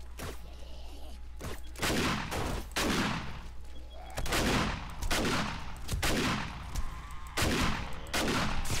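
Shotgun blasts ring out in 7 Days to Die during a horde night, about a dozen loud, sharp shots fired in a quick, uneven rhythm, each with a brief decaying tail.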